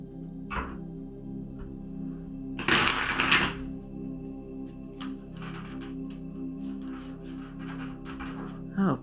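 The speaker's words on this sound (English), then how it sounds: "Okay, I'm going to do one more good shuffle here." A burst of crisp, rapid riffling of a tarot deck, a short shuffle close by, set against a quiet hum with a few soft taps and clicks around it.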